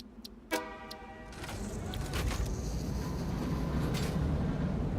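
Train horn in the factory-building video game Satisfactory, a short bright toot followed by a building rumble of the train pulling away, growing louder and steady.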